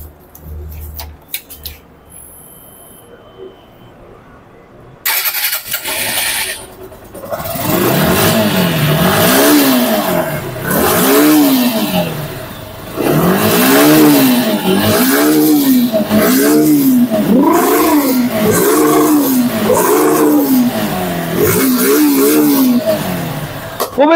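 A Suzuki Gixxer SF FI motorcycle engine is started after a quiet stretch, then idles and is revved repeatedly, loud and close, with a steady rhythm of rising and falling throttle blips.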